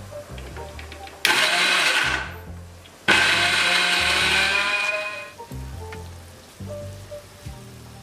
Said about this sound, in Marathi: इथे आता मी मिक्सरला सगळे मसाले बारीक करून घेते